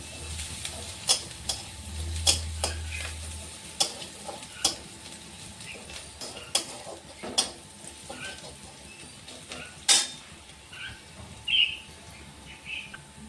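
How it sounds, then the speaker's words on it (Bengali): Spices being stirred and fried in a pan, with scattered scraping clicks of the spoon over a faint low sizzle, in a fairly quiet kitchen. "এগুলো এখন নেড়ে চেড়ে ভালো করে ভেজে নিচ্ছি।"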